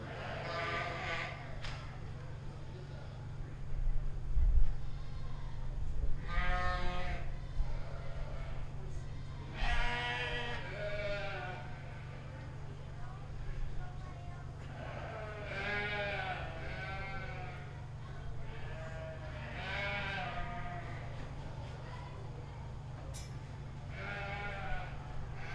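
Blackface and whiteface commercial ewes bleating repeatedly in a 4-H sheep show ring, several overlapping calls from near and farther off over a constant low hum, with people talking in the background.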